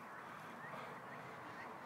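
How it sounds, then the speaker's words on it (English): Ducks quack in a steady outdoor wash of noise, the calls moderately loud and blended together with no clear gaps, as if a small flock is close by. "So we got ducks."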